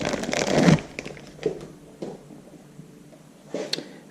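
An engine valve from an IHC Farmall Super MTA cylinder head goes into a plastic bag, giving a loud crinkling burst at first, then a few brief rustles in a quiet workshop.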